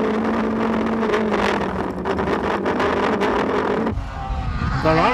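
Engine of a 1999 Ford Escort rally car, damaged and down to one-wheel drive, at the Manx International Rally, droning loudly and steadily up close before a sharp change in tone near the end as it revs again.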